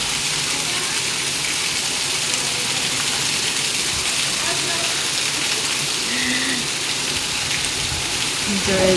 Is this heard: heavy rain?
yes